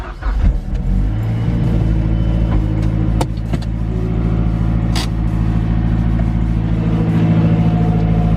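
Car engine droning loud and steady while driving after a JBR short shift plate and solid shift bushings install, holding a constant hum with slight rises in pitch and no talk.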